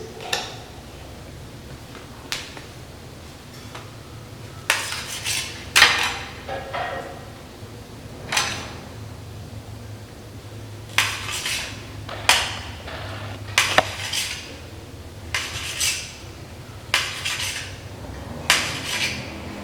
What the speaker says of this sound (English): So here we see we're cutting all the idlis into these kinds of pieces.